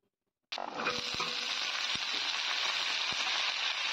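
Young drumstick, potato and ridge gourd tipped into hot oil for a tengra fish curry, bursting into a loud, sudden sizzle after a brief silence and hissing steadily on, with a few faint clinks.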